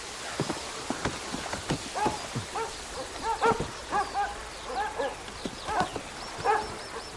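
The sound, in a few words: dogs barking loudly in a video game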